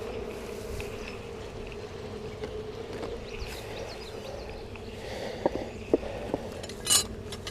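Honey bees buzz in a steady low drone near an opened hive during an inspection. A few sharp clinks of tools or frames are heard near the end.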